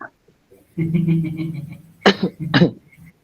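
Two sharp, harsh coughs sound close to a microphone during an online group meeting, following a brief murmured, voice-like hum.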